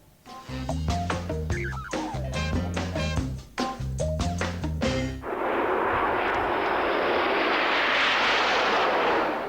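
Aircraft engine noise at an airshow, a steady broad roar that fills the second half after a stretch of loud music, sustained and fairly close.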